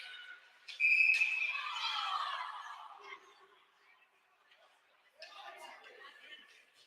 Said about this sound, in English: I have no idea what the whistle was.